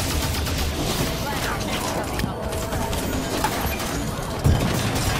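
Gunfire in the Halo 5 video game as the player shoots at a core, a dense sustained barrage of shots and impacts with crashing mechanical game sounds behind.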